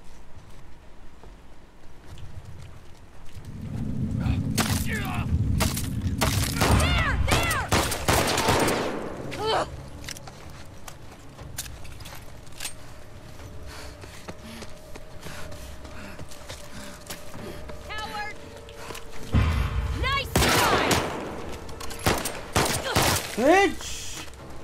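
Bursts of gunfire in The Last of Us Part II, loud and clustered at two points with quieter stretches of scattered shots and game noise between.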